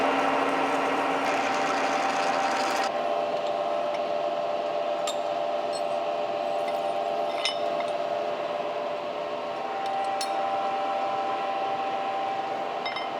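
A machine drills a small hole in metal for a welding table, run dry without coolant at 252 RPM, a steady whirring, grinding drone with a faint tonal whine and occasional light metallic ticks throughout.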